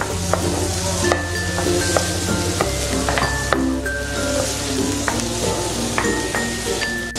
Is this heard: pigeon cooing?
no